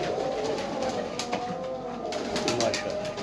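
A Roja breed pigeon coos in low, repeated throaty rolls, close by and fairly loud against a steady background hum, with other faint bird sounds around it.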